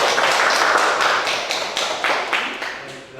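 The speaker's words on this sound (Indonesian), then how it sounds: "Kasih aplaus untuk Devandri." Audience applause for a student group's presentation in a classroom teaching practice session, dense continuous clapping from many hands that tapers slightly toward the end, close and fairly loud.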